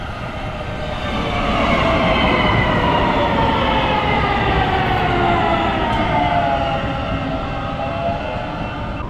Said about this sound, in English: Hey, we get a test train.